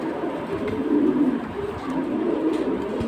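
Soft, low pigeon cooing rolls on steadily, several high-flying pigeons murmuring together in repeated throaty phrases with no talking.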